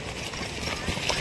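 A horse canters at a Telangana riding academy, giving rhythmic hoof clip-clops on the ground. Someone speaks over them and the ambience is windy and noisy.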